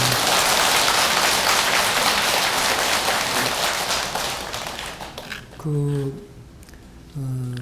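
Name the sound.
congregation applauding at a Buddhist dharma service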